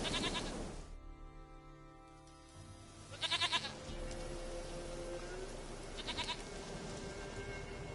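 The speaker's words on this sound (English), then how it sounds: "Goat of mine, dearest, sweetest goat." A goat in The Witcher 3 gives short bursts of bleating, loud and close, with quieter ambient game sounds between the calls.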